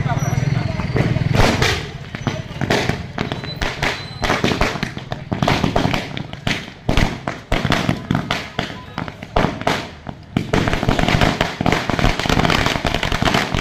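A long string of firecrackers bursts in front of a village gram panchayat office during a local temple festival, a fast, loud, uneven crackle of bangs running almost continuously for over thirteen seconds, with voices underneath.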